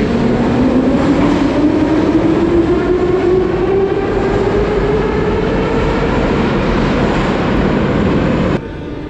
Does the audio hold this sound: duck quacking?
no